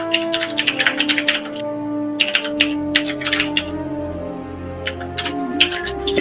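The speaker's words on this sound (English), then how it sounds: "I have a loud mechanical keyboard." A loud mechanical keyboard clacks in quick, irregular bursts of typing with short pauses, close by over a steady background tone.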